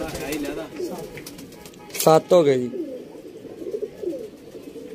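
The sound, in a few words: pigeons cooing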